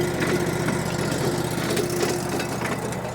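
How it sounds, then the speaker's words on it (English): An engine runs steadily at an off-grid cabin, with a continuous loud mechanical drone and a loose rattling from the main drive belt layered over the idle. "That rattle noise is the drive belt, the main drive belt."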